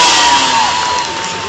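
A crowd at an outdoor freestyle motocross show in a town square cheers and whoops loudly in a short burst that eases off toward the end.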